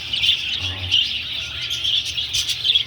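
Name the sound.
birds chirping in a breeding cage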